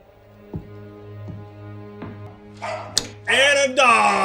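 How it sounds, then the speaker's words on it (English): A dog from a Band of Brothers episode gives a few spaced single barks over a low drone, then people talk over it near the end. "And a dog."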